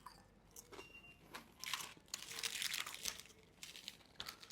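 Crispy dosa crunched while eating, with repeated close, dry crackling bites and crinkly breaking sounds in irregular bursts, no voices.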